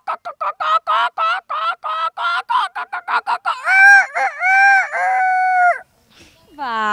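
A child imitates a rooster crowing at dawn, starting with a quick series of short clucking bursts, then a drawn-out close crow in several stretched tones, followed by a brief faint sound.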